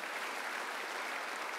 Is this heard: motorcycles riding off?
no